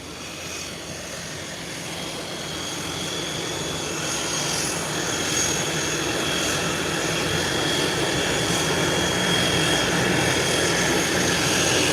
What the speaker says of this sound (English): soon it will be taxiing to the taxiway to use the active as soon as clearance is given